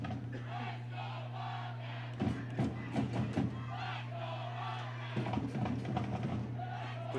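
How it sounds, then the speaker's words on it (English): A high school football crowd roars for the Wildcats during a game against Wakefield, with a continuous distant murmur swelling into two loud bursts of cheering and shouting. "The crowd getting crazy for the Wildcats."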